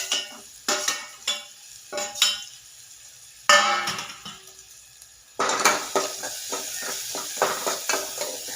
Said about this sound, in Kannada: ಈಗ ನೋಡಿರಿ, ಇದು ಒಗ್ಗರಣೆ ರೆಡಿ ಆಗ್ತಾ ಇದೆ.